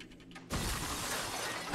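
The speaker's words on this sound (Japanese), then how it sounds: "鏡割れるじゃん。" A mirror shatters in the video game Far Cry 6, a sudden loud crash of breaking glass followed by sustained tinkling debris.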